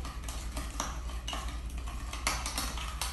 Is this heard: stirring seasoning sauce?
yes